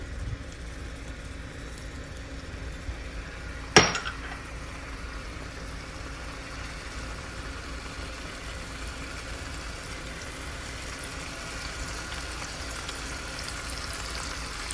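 Chicken roll ups fry in a pan over a medium burner, giving a steady, even sizzle that runs the whole time with one brief sharp click early on and no voices.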